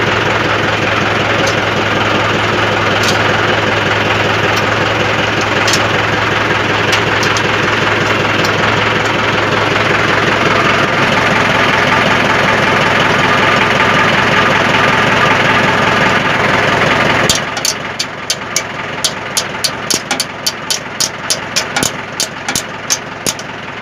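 A farm tractor runs steadily during repair work, its loud low engine drone continuous for most of the stretch before cutting to a quieter idle with sharp rhythmic ticks and knocks near the end; no talking.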